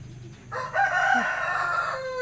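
A rooster crows once, a clear drawn-out call that sounds a little distant, with quiet background noise and no talking.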